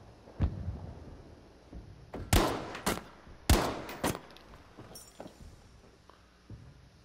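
Gunfire rings out in Battlefield V as a player shoots at a vehicle drop beside a house, with a few sharp, spaced shots and cracks, fairly close, fading into quiet ambience.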